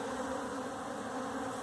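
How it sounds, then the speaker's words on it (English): Honeybees buzzing steadily at a weak backyard hive in Austin, a dense continuous drone close to the microphone with no voices over it. "that's just to show you happy bees in Austin"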